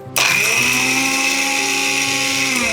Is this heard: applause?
no